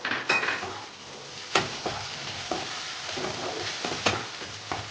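Thin strips of capsicum fry lightly in a pan, giving a steady soft sizzle broken by sharp clinks and scrapes of a spatula against the metal, with several louder knocks spread through.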